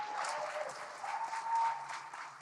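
A small studio audience claps steadily for a couple of seconds on a podcast set, a light, even patter of hands without cheering.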